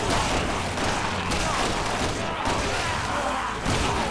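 Pistol gunfire in the video game Resident Evil 6, a dense, steady stream of loud shots and impacts running across the whole stretch, with busy game noise beneath.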